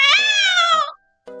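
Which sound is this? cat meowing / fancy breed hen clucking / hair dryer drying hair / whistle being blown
cat meowing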